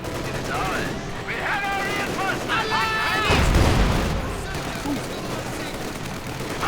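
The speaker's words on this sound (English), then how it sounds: "Nice hit from the Panzer IV right there." Tank cannon fire and explosions from a Panzer IV in a Company of Heroes 2 battle, with a heavy boom around the middle over continuous battlefield gunfire and someone talking over it.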